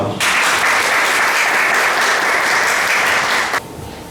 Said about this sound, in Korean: 우리 김진양 선생님을 큰 박수로 모시고 강의를 듣도록 하겠습니다.